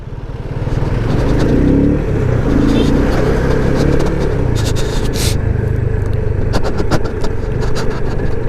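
Cars stuck in a roadside traffic jam, a loud continuous engine rumble with scraping and clattering, and people talking over it.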